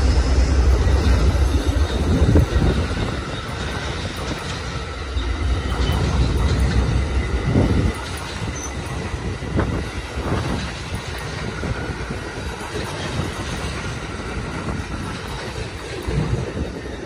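An Amtrak 5 passenger train passes by at Roseville, its rumble heavy at first and then easing into a lighter rolling clatter with some wind noise over the next fifteen seconds.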